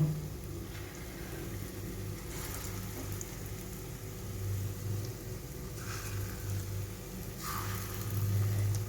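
Small fritters of coconut and pea lentil deep frying in hot oil, a steady soft sizzle and crackle with low background hum continuing throughout, moderately quiet.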